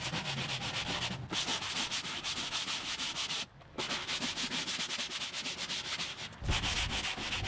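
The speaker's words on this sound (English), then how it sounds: "using a stiff bristled brush to remove stuck-on debris including molds and mildew" A stiff-bristled brush scrubs a wet wooden deck surface being cleaned of mold and mildew before re-staining, with rapid, continuous back-and-forth rasping strokes up close and a couple of brief pauses; no talking.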